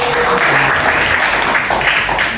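A church congregation applauds the youth leader, a dense wash of clapping from many hands across a large room, steady and fairly loud, with a voice faintly audible beneath.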